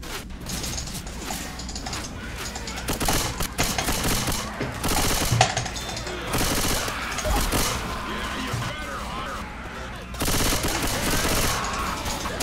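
Gunfire breaks out after a shouted command to fire, loud clattering bursts and mechanical rattles filling the whole stretch close up, with occasional voices mixed in.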